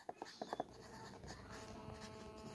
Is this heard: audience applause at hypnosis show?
no